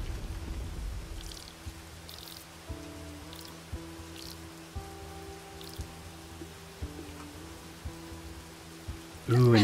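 Rain in the video game Overland patters softly and steadily against a low ambient hum, with faint scattered drips and occasional quiet tones from the game's interface.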